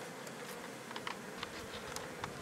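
Honey bees in a mountain hive give off a continuous close buzz, with individual bees droning past at intervals over a busy, crackling background.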